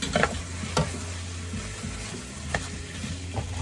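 Beef pieces browning in a pan over medium-high heat for pie filling, a steady close sizzle with a few sharp clacks of stirring and scraping, no talking.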